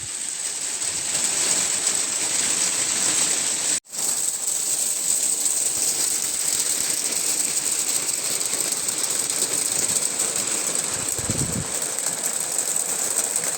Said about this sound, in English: Sleet.